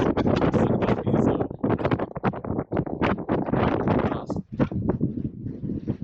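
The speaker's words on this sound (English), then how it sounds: "Wind at Red Cloud, waiting for the goods." Gusty wind buffets the microphone on the summit of Redcloud Peak, a Colorado fourteener, as loud continuous rumbling roar with surging bursts that ease slightly near the end.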